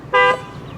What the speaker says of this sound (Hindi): बहुत ही शानदार हॉर्न है